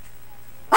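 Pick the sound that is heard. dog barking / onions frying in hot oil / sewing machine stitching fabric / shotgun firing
dog barking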